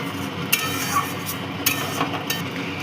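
Chili, cumin and coriander powder being stirred into a pan while cooking restaurant-style Bengali chicken kosha: a steady soft scraping and stirring bed with a few sharp clinks of the spoon against the pan, close and alone.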